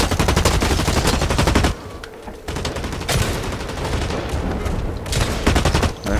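Rapid automatic gunfire in the shooter game Blacklight, dense loud bursts that break briefly and then resume in sustained volleys.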